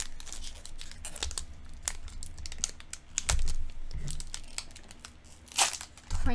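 A Pokemon Darkness Ablaze booster pack wrapper crinkles and tears as it is opened, a burst of close, sharp plastic crackles in uneven bursts with quiet gaps between.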